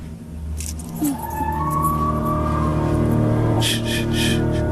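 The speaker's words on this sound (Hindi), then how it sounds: "ये गाड़ी स्टार्ट क्यों नहीं हो रही?" Ignition keys jangle and turn in a car that fails to start, with a metallic rattle and a brief engine attempt over a low idle hum, close and fairly loud.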